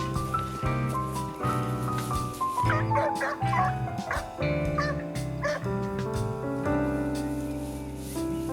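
Zach, a vineyard dog on Waiheke Island, whimpers and gives small yips while he holds his ball, the sounds close and set against steady music throughout.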